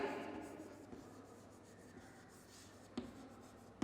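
Chalk or marker scratching on a classroom board during a physics lesson on motion, a faint steady rubbing scrawl with a couple of sharper taps near the end, low in level with no talk over it.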